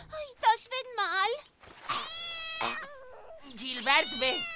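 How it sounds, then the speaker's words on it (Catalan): A kitten meows repeatedly in high, wavering cries, several distinct calls in quick succession, loud and close, with no one talking over it. "Pelut, el gatet ja és aquí."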